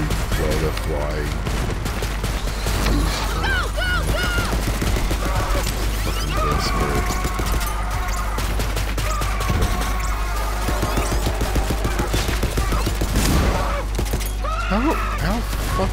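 Borderlands 3 video game gunfire, dense bursts of rapid shots and crashes running continuously and loudly under excited talking voices.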